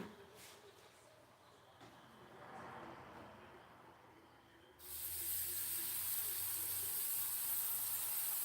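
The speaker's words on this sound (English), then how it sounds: "I got spray adhesive" Spray adhesive hisses steadily from an aerosol can to hold down a stencil for a wood sign, a loud sustained spray in the second half after quiet room sound.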